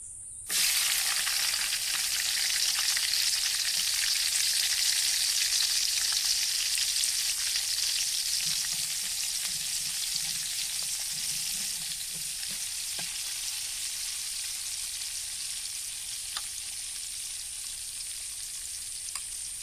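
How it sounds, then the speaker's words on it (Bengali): Chopped onion hits hot oil left over from frying pangas fish on a clay stove, giving a loud, steady, close sizzle that begins abruptly and runs without a break, with no voices. "মাছগুলো আমি ভেজে নিয়েছি। ওই একই তেলে আমি দিয়ে দিব কিছুটা পেঁয়াজ কুচি।"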